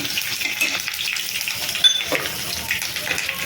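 Green chillies sizzle in hot mustard oil among whole spices, giving a steady crackling fry close by with faint clinks of the pan and no talk.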